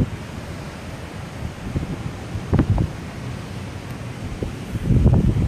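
Surf washing onto a beach in Cancun with wind buffeting the microphone, a steady low roar with a few stronger wave surges rising near the middle and again toward the end.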